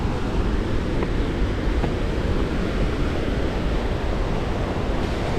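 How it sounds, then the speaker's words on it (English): Rushing water from the Yellowstone River rapids just upstream of the brink of the falls, a steady, loud, broadband roar that continues unbroken throughout with no speech. "There's a couple of sets of rapids just upstream."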